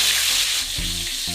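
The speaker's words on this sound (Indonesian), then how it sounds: "Kita lanjut dengan goreng tomat." Halved tomatoes frying in a pan give off a steady, close sizzle with a soft stirring clunk partway through, and no voices.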